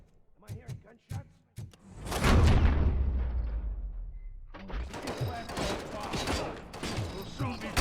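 Gunfire in the Robocop Rogue City video game: a few sharp shots, then a big rumbling blast that slowly fades, followed by a dense, steady run of rapid firing with voices talking over the action.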